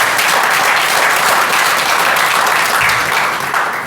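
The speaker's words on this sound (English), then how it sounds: "let's please give Merritt Park Baptist Church a round of applause as well." Dense, loud applause from an audience at a community meeting in a church setting, continuous clapping filling the whole stretch with no pauses.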